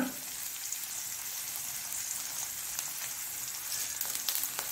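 Curry leaves crackle in hot tempering oil with a steady, hissing sizzle, close and fairly even, with faint pops scattered throughout and no voices.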